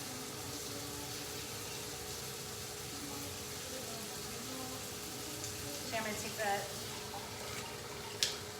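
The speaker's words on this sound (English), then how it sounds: "So I'm gonna fill my pot up with some water" Water runs steadily from a kitchen tap into a pasta pot, a quiet continuous rush with a few clinks near the end, while a person talks over it.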